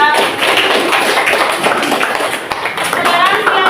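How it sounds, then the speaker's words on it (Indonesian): A classroom audience of university students claps for a presenting group, a brief, close burst of dense applause that holds steady for a few seconds. "Tepuk tangan untuk kelompok 2"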